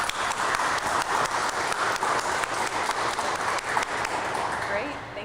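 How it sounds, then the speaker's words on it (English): A quick round of applause at a San Antonio Start Up Week event, steady dense clapping filling the whole stretch, fairly close and continuous with faint voices in the crowd. "Let's give these guys a quick round of applause"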